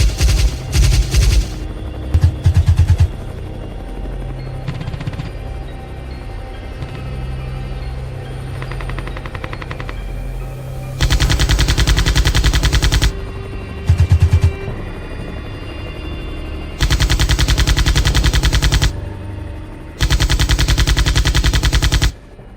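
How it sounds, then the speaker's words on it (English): Rapid bursts of automatic gunfire from a helicopter hunting wild boars, several loud sustained volleys separated by gaps filled with the steady drone of rotor and engine. "A sharp burst of shots rang out."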